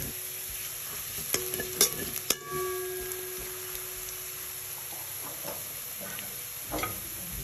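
Garlic or onions frying in a pan as dried rosemary is added for spinach rice: a steady, close sizzle with a few sharp scrapes and taps of stirring early on, then a quieter, even hiss.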